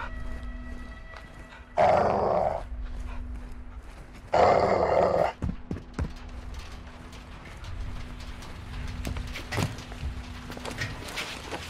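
Caged dog in the Modern Warfare 2 video game growling, two loud low bursts about two seconds apart over a steady hum and game ambience, followed by quieter shuffling and footstep-like sounds.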